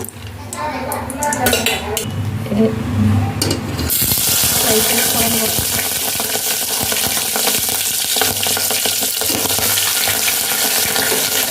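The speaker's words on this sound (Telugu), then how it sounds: "ఫ్రై చూసారా నూనెలో వేపుకుంటే బాగుంటుంది" Boiled mutton lungs hit hot oil and break into a loud, steady sizzle after a few seconds of clatter and someone talking, the frying hiss then filling the rest close up with occasional utensil scrapes.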